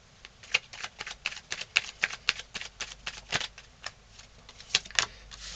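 Tarot cards being dealt and laid out on a table one after another, producing a run of crisp, close slapping and shuffling clicks in an uneven rhythm, with no talking.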